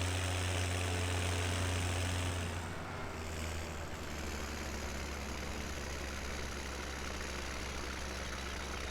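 A tractor engine idles in Farming Simulator 17, a steady low droning hum with a constant mid-range rumble that holds evenly throughout, with no talking.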